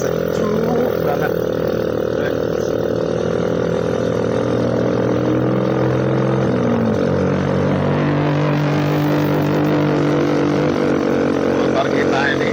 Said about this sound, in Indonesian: Motor kita ini jalannya cuma 20 km per jam